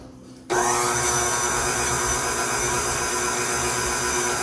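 An electric mixer switches on abruptly and runs at a steady high whir, creaming ingredients for chocolate chip cookie dough, close and continuous with no talking.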